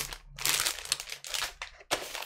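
Plastic parts bags from a building brick camper van set are handled up close, giving bursts of sharp crinkling and rustling in uneven clusters with short pauses between, moderately loud and without speech.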